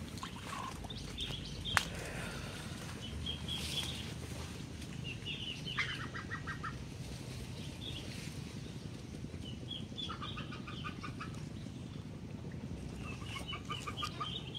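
Muscovy ducks in a pen flooded by the overflowing Bengawan Solo river in Sragen give soft, clucking calls with an occasional wing flap, at moderate distance over steady outdoor background noise.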